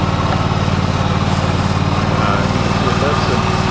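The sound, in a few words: John Deere X530 lawn tractor Kawasaki engine running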